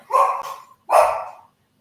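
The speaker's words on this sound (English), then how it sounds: "That's my child's dog, y'all." A dog barks three times up close, two quick barks followed by a single louder one, sharp and loud with silence between them.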